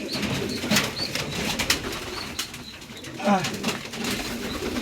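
Chocolate grizzle pigeons coo in low, repeated bursts close by, with occasional wing flaps and faint background voices.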